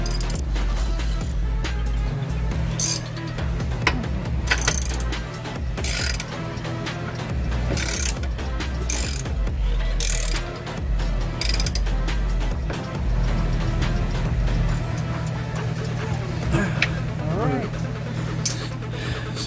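Ratchet clicking in bursts while tightening a bolt on a Steeda lightweight strut bar on a Ford Focus, fairly close, with a steady low hum underneath and a person talking intermittently.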